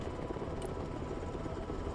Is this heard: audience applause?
no